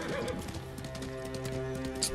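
Hooves clip-clop steadily beneath a horse's neigh while riding in the video game Ghost of Tsushima, a short continuous stretch with game music tones underneath.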